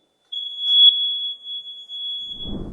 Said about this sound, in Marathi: असा बीपचा आवाज आला